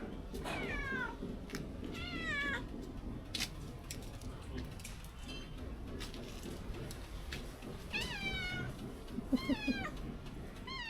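A cat meows several times in short, drawn-out cries, two early and two more later, against a busy low background hum.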